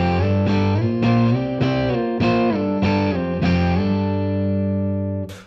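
Electric guitar plays a strum-and-slide rhythm riff, about seven loud chord hits with sliding pitch changes and sustained ringing tones, ending abruptly.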